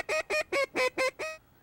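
A woman mimics a mallard duck call with her voice, giving six quick, evenly spaced nasal quacks that ring out loud and clear. A brief silence follows the last quack.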